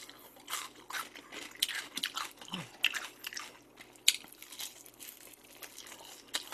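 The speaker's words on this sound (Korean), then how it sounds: "치킨 하나 먹을게요." Close crunchy bites and wet chewing on sweet, sticky syrup-glazed Korean fried chicken, with crisp crackles and irregular mouth sounds and no talking.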